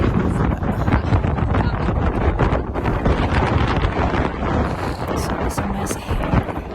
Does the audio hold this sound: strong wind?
yes